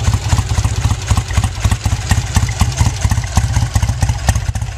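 A 1966 Triumph Bonneville with twin carburetors idling after a cold start, a loud, close, lumpy rhythmic thumping with mechanical clatter, steady throughout and uncovered by talk.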